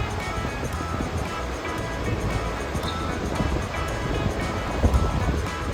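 Flowing river water in Barot Valley, Himachal, a steady broadband rush with wind buffeting the microphone, continuous and fairly close, with no talking.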